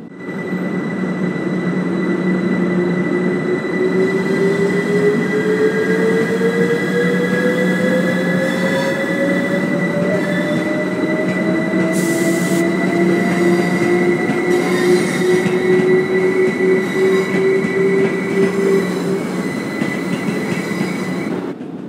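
A Class 377 electric train on the East Coastway route in Train Sim World 2 pulls away and runs steadily, a rising motor whine over continuous rail rumble and wheel noise, loud and alone.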